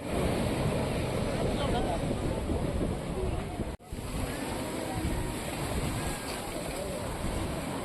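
Sea waves roll onto the shore at the beach beside Mandaikadu Bhagavathy Amman temple, a steady broad roar of surf mixed with wind buffeting the microphone, broken by one brief dropout midway.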